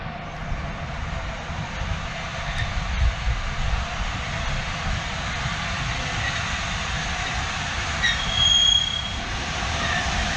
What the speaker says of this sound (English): So we're going to catch Nigel Gresley on the way back up to Peterborough